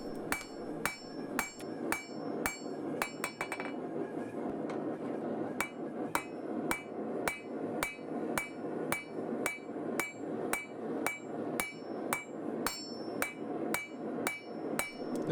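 Hammer blows ring out on a folded axe being forge-welded and drawn to a taper, in an even and fairly quick rhythm with sharp metallic strikes under a hiss from the forge.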